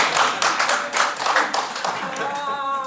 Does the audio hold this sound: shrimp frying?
no